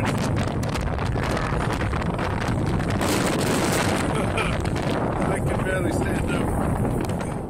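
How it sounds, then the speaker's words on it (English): Strong gale force wind buffets an LG G Flex phone microphone outdoors, a loud continuous roar and rumble that fills the whole stretch without a break. "Outdoor videos are sharp, crisp, and soaked in beautiful color, with audio capture holding up pretty well even in a gale force wind."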